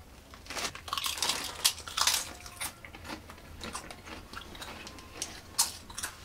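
Walkers beef and onion crisps being eaten from a small pack, with repeated close crunches and crinkly bites coming in quick irregular bursts, loud and near, with no talking.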